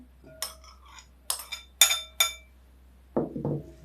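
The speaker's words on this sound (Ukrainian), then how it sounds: "Так що викидаю сюди печінку покришену." Chopped chicken liver is tossed into a salad bowl: a series of bright, close clinks of a utensil against the bowl, followed by a couple of duller, softer thumps as the pieces land.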